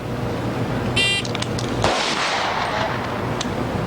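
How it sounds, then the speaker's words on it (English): A single gunshot at an outdoor shooting range gives one sharp crack followed by a short echoing tail, set against steady background noise. "React and fire 1 shot."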